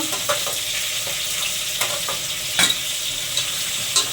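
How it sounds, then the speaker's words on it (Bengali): Garlic paste and chopped green chillies frying in a pan for a mutton and potato gravy, stirred with a spatula: a steady, close sizzle with scattered scraping clicks and small pops. "ওর সাথে রসুন বাটাটাও দিয়ে দেবো দিয়ে একটু নেড়ে নেব"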